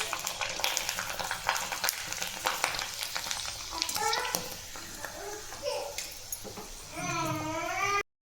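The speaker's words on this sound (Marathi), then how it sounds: "आता मी तुम्हाला ह्या पापड्या तळून दाखवते" Sago papad fry in hot oil with a steady crackling sizzle up close, while a child's babbling and fussing rise over it near the end.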